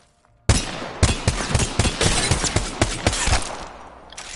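A gun is hip-fired in the shooter game Apex Legends: loud, rapid shots in a burst of a dozen or more, following a brief quiet moment and then tailing off.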